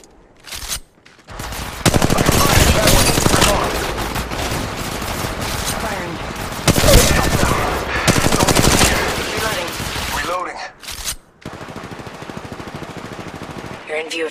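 In the mobile battle royale game Apex Legends Mobile, loud close-range automatic gunfire pounds out in long rapid bursts with brief gaps between them. A quieter stretch of shots follows near the end, and a voice speaks briefly over it.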